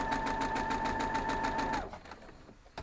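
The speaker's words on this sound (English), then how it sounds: "we're going to go sew these all the way around, 1/4 inch" A sewing machine runs a quarter-inch seam around fabric, a fast even mechanical whir with a clear rhythmic pulse for about two seconds, then stops, leaving quiet handling noise and a small click.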